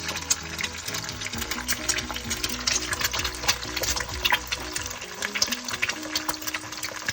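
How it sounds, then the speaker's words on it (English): An egg fries in hot oil, bubbling and spitting in a busy, continuous crackle of tiny pops, fairly loud and near, with no talking. "your egg is gonna immediately start to bubble"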